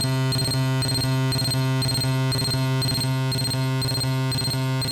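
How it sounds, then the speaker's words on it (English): On a modular synth, a gate pulse ratcheted times four plays as audio, a steady, loud buzzing tone broken into rapid clusters of four stuttering hits that repeat in an even rhythm, with nobody speaking. "And here's a ratchet times 4."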